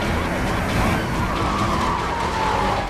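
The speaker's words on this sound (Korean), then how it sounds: "조 씨는 사방에서 몰려드는 경찰차를 피해 도주를 시도해요" Several police cars chase a fleeing car through city roads in a film scene, a dense roar of engines and tyre noise with a faint siren wail woven in, loud and continuous.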